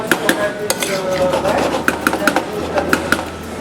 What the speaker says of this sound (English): these are dry porcini mushrooms which I've soaked. And I'm adding the liquid also